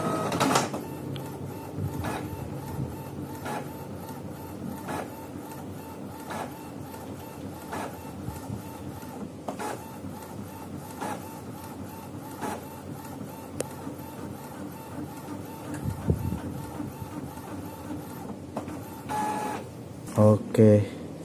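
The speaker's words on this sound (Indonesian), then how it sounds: "Nih, printer udah merespon." An inkjet printer printing a Polaroid-style photo on plain HVS paper, its head shuttling back and forth in regular whirring passes with clicks and a final paper-feed clatter, while people talk over it.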